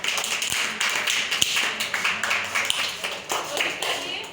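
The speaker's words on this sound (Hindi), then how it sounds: "ताली बजाओ।" Children clap their hands in a classroom activity song, a few sharp claps standing out over a steady wash of young voices chattering and chanting close by.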